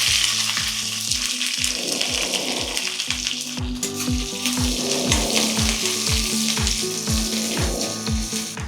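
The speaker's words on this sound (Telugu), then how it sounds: "ఉల్లిపాయలు వేగినవి." Sliced onions and green chillies frying in hot oil with a tempering of chana dal, urad dal, mustard seeds, dried red chillies and curry leaves for a brinjal curd curry, with a steady close sizzle and repeated rhythmic scraping of a spatula stirring the pan.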